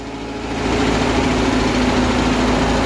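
Tractor engine idling close by after starting, a steady loud mechanical drone that rises in the first half second and then holds an even rhythm, with no voices.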